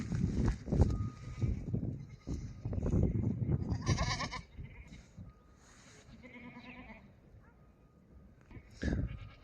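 Sheep and goats bleat at the Maştağa livestock market in Azerbaijan, with several wavering calls from near and farther off rising over a busy bed of crowd chatter and movement.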